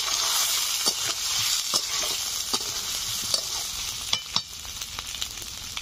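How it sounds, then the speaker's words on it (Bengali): Fried potatoes and ginger paste sizzle and crackle steadily in a hot pan for a Bengali rohu fish and potato curry, with several sharp scraping stirs of a spoon against the pan and no voices. "দিয়ে দিচ্ছি ভেজে রাখা আলু।"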